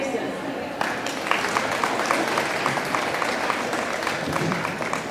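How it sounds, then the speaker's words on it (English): An audience at a senior citizens' celebration breaks into applause, many hands clapping in a dense, sustained patter that carries on for several seconds. "please give a round of applause"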